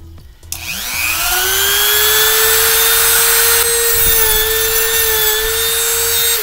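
A rotary tool grinds excess plastic disc off a Zoids model part, spinning up with a sharp start and then holding a loud, steady high whine, close and continuous.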